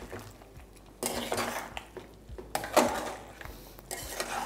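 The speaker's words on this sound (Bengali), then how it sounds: "এবার এই মশলার সাথে এটাকে ভালো করে একবার মিশিয়ে নেব।" Chicken liver being mixed with spices in a pan, heard as bursts of metal spatula scraping and clinking against the pan between quiet pauses, close and fairly loud, with no talk.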